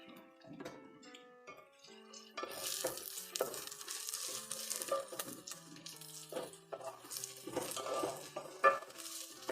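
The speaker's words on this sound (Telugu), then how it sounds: "ఈ టమాటా ముక్కలను సాఫ్ట్ అయ్యే వరకు వేయించుకోవాలి" Onions and tomato pieces fry in a pan for a curry leaf chicken curry, giving a soft sizzle punctuated by clinks and taps of a spoon stirring against the pan.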